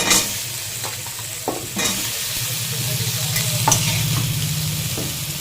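Potatoes drop into a hot pan and fry with a rising, continuous sizzle, punctuated by sharp clinks and scrapes of stirring, with no talking.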